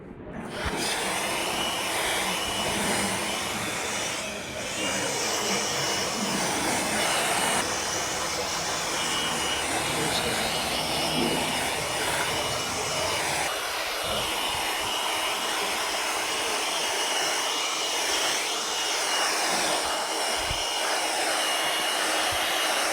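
A handheld air blower drying a freshly rinsed car engine bay, a loud continuous close whoosh that shifts slightly in pitch as it moves across the engine, with no speech.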